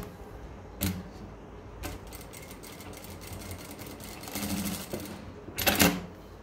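A sewing machine running a loose basting stitch on elastic for a homemade cotton bra, quick mechanical stitching bursts in short runs with pauses between, near and moderately loud, no speech.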